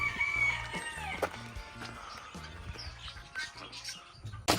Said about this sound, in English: I was greeted by the familiar sights and sounds of the birds that are on this farm